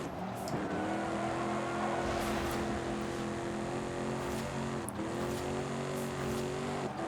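Car engine in Forza Horizon 5 revs steadily toward a low limit near 4,000 rpm, a droning harmonic tone held for several seconds with a brief dip, loud and continuous.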